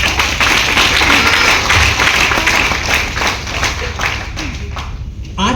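An audience at an AWPL health and wellness program applauds. Dense, steady clapping fills the room, stays loud and close, and then thins slightly toward the end.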